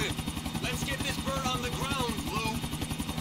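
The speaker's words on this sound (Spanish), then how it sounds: "Devuelve el helicóptero al aeropuerto." Helicopter in the video game Grand Theft Auto IV: The Ballad of Gay Tony, a rapid rhythmic rotor chop steady throughout, with game dialogue voices over it.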